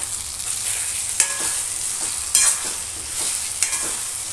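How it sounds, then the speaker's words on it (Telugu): A ladle stirs tamarind curry frying in oil in a pan, with a continuous close sizzle and a few brief scraping strokes of the ladle against the metal. "ఇప్పుడు మళ్ళీ ఒకసారి కలుపుకోవాలి గరిటెతోని"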